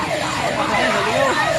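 Overlapping fire truck sirens wail loudly and continuously at a bus fire, their pitches sweeping up and down against a dense background of traffic noise.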